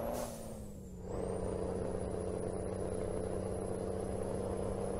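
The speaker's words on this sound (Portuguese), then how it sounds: "Até muda o ronco, né? Muda tudo do caminhão" A heavy truck engine with its turbo running in Euro Truck Simulator 2, hauling a 30-metre rodotrem loaded with timber. It holds a steady, continuous roar with a high whine above it and a brief dip near the start, with no talking.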